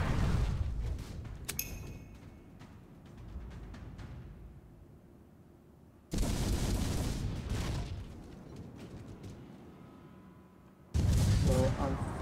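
Ship cannon fire in Port Royale 4, a naval trading game: two loud, sudden booming broadsides that hold and slowly fade, separated by quieter ambient stretches of sea and game background.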